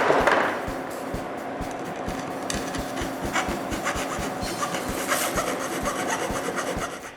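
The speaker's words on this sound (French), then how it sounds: "Je finis le tout en limant le métal." Hand file rasping across metal during a workshop ceiling-mount build, a steady run of close, rhythmic scraping strokes with no voices.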